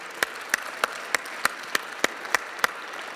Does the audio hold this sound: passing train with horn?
no